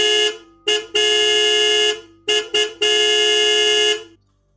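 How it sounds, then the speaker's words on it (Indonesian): A jeep's car horn blares loud and close in long sustained honks broken by quick short toots, a harsh rhythmic pattern that ends in silence. "tiba-tiba saja dari arah jalur S ada mobil jeep melaju kencang sambil mobil itu membunyikan klaksonnya"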